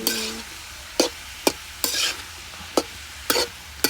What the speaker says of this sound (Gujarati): મસાલો એડ કરીને હવે બરાબર હલાવીશું